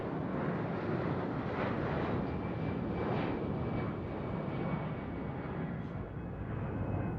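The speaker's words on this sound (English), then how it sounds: "Today, the president travels in a larger aircraft, a modified 747." Large modified Boeing 747 jet aircraft used for presidential travel, a steady loud engine roar sustained throughout with faint high whine, no talk.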